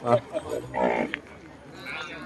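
Cattle lowing at a busy Thai cattle market, one or two loud, close moos with crowd noise and voices around them.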